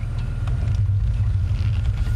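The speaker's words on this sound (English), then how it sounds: "Let the engine run for a few seconds." A safari vehicle's engine idles on a sunset game drive, a steady low rumble close by that carries on unbroken for a couple of seconds, with no speech and faint outdoor ambience behind it.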